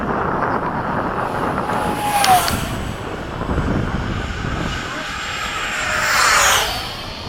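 Skysword aircraft making a fast low pass during a demo flight at an airfield, a broad engine roar that builds and sweeps past with a rising whine near the end, steady wind noise and background talk underneath.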